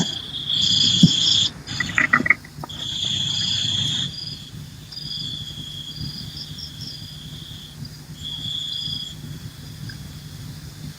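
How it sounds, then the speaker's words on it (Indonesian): Crickets chirp at night in shrill, bright trills that start and stop, with a quieter, steady insect buzz behind them. A few soft knocks come near the start. "Ada suara jangkrik, ini siapa ini?"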